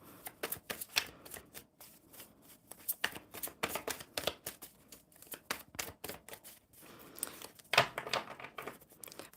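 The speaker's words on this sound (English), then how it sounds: "One more good shuffle." Cards are shuffled again and again close up, with rapid riffling flutters and soft slaps in an uneven rhythm, fairly quiet.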